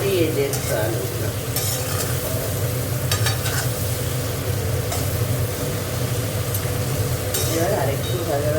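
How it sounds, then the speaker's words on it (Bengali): Potatoes frying in hot oil with salt and turmeric, a constant close sizzle broken by scraping stirs and occasional utensil clinks. "এবার আরেকটু ভাজা ভাজা করবো যাতে হলুদের গন্ধটা চলে যায়"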